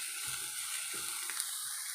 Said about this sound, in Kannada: ಈಗ ನಮ್ಮದು ಚೆನ್ನಾಗಿ ಸ್ವಲ್ಪ ಫ್ರೈ ಆಗಿದೆ